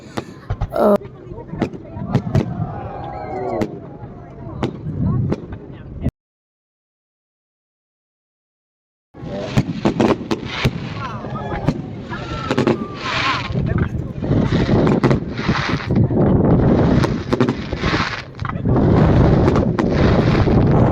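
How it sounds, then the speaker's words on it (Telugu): New Year fireworks and firecrackers over Greymouth, New Zealand, on a windy midnight: rapid, irregular cracks and booms in dense clusters, with a few seconds of silence before the barrage resumes even louder. "ఇక్కడ కంప్లీట్ టౌన్ మొత్తం అందరూ ఈ ఫైర్ క్రాకర్స్ ఎక్స్పీరియన్స్ చేయడానికి వస్తారనమాట"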